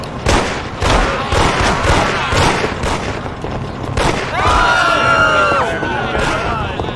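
Loud fireworks in the Mafia video game go off as a string of booming bursts, followed by whistling, crackling streaks, close and continuous with faint crowd noise underneath.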